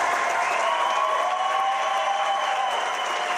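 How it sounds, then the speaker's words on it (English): Dozens of people applauding outside a hospital as an injured Highway Patrol trooper walks out on crutches, a dense, continuous outdoor round of clapping from a crowd, fairly loud and steady. "Trooper Andrew Steen, aided only by a pair of crutches and the applause of dozens of people, walked out of the hospital"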